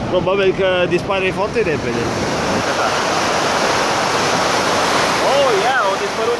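Water rushes hard and fast through an automatic dam, a loud, continuous roaring wash close to the microphone, with someone talking over it near the start and a short vocal sound near the end.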